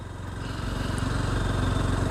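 Motorcycle riding on a hill road with U-turns in the Karbi hills gives a steady close engine drone with a low pulsing rumble that swells gradually, with no talk.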